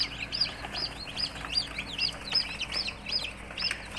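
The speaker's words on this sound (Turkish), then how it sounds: "kafesimiz civciv kaynıyor tabir caizse" High, rapid peeping of many small chickens' chicks chirping together in a cage over a low background hum.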